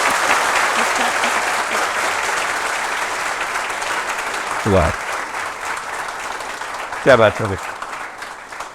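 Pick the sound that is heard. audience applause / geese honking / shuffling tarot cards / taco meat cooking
audience applause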